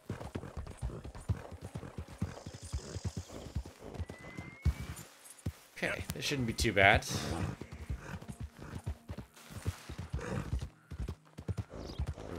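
Hooves clip-clop at a galloping pace under game sounds in Red Dead Redemption II, with a horse's whinny partway through while someone talks over it.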